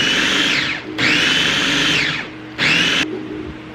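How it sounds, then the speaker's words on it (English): Blender pureeing homemade baby food, loud whirring motor in two bursts separated by short pauses, with the pitch rising as the contents break down. "With this blender, you just have to push down this little tab, so I'm just gonna go ahead and pump it."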